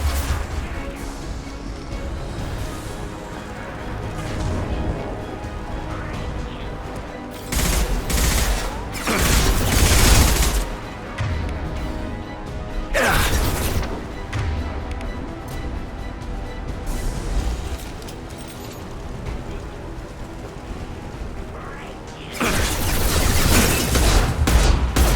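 Loud, sustained video game gunfire in Mass Effect 2, dense bursts of shots and crashing impacts with heavier booming volleys, continuous and close for the whole stretch.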